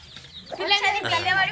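Soft clucking and peeping from small chicks and hens, rising in the second half with a steady busy chatter of several birds close by.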